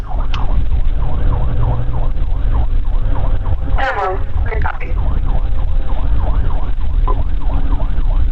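A wailing police car siren sweeps up and down steadily throughout, loud and close, with a brief burst of sharper yelp tones midway over road noise during a suspect chase.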